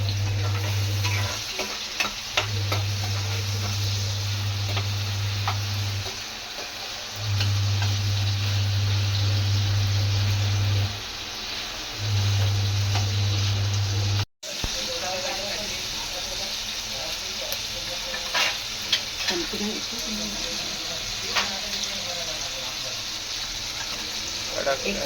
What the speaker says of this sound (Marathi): इथे आता चालू आहे भाजी.